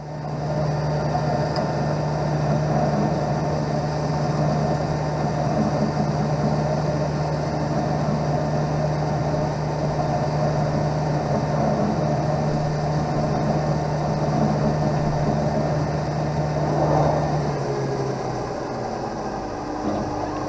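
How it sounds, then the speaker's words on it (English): A lens edger's bevel wheel grinds a light bevel onto the front convex surface of a prescription anti-glare eyeglass lens, giving a steady, loud mechanical whir with a constant low hum that runs unbroken and eases slightly near the end. "Out comes the bevel wheel. It's going to do a light bevel on the front convex surface of the lens"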